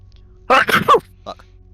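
A single sharp sneeze bursts out close by, a loud, brief explosive breath followed by a short fainter sound, with a quiet room tone underneath.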